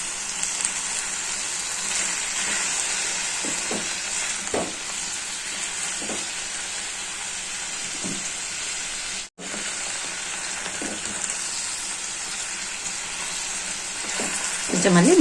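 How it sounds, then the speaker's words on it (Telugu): Bitter gourd curry frying in a pan, with a steady sizzle and occasional soft scrapes and clacks of a spoon stirring the pieces, close and continuous. "మధ్య మధ్యలో బాగా కలుపుకోవాలి. కిందిది పైకి, పైవి కిందికి చేసుకుంటుండాలి."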